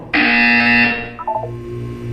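A loud electronic buzzer sounds in the video game Portal 2, a harsh sustained blare lasting about a second, then cutting off into a few short descending tones and a low hum.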